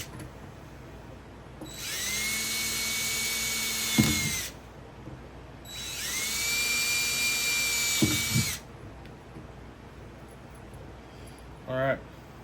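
Power drill boring through PVC pipe for a DIY under-gravel sponge filter for a fish tank, two steady whining bursts of several seconds each, each ending with a short grinding catch, separated by quiet pauses.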